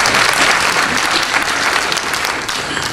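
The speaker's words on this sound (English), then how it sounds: "Give them a round of applause, please." An audience at a mayoral run-off candidate forum in a museum hall gives a round of applause, dense sustained clapping filling the room throughout.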